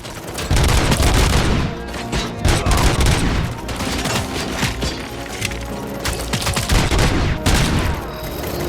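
Gunfire in the video game Robocop: Rogue City, loud rapid bursts and repeated shots layered into a dense continuous firefight with booming impacts, close and intense throughout.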